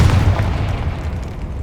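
A Confringo blasting spell exploding in Hogwarts Legacy on PS5: one loud, deep booming blast that rolls on as a sustained rumble.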